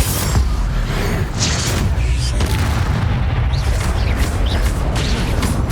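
A heavy, booming blast from the Bombarda spell in the Hogwarts Legacy video game, loud and rumbling throughout, with a dense crash that carries on continuously and no voices over it.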